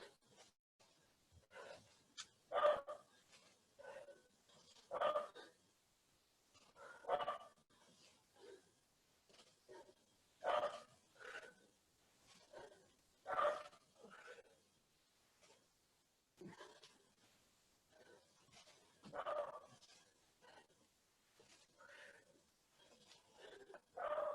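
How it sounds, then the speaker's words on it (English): Dogs bark and whine in short bursts at moderate distance, recurring irregularly throughout with quiet gaps between. "you get to hear my lovely dogs barking through this"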